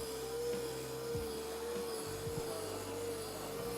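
Vacuum cleaner with a brush running, a steady close whining motor drone with a constant tonal hum, plus a few low bumps and shifts as the brush moves.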